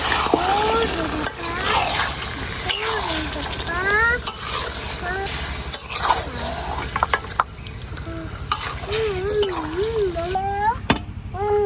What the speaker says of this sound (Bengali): এখন দিয়ে দেন মাংসগুলা মশলার সাথে মাংসটার একটু ভালো করে মিশাই নিয়াম